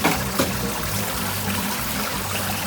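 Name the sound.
melted ice water draining from Hoshizaki ice machine evaporator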